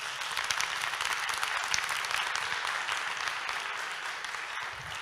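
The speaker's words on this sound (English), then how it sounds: "big round of applause" Steady applause from an audience at a leadership talk, a dense, even wash of many hands clapping, fairly faint and continuous throughout.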